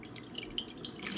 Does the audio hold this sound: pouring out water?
yes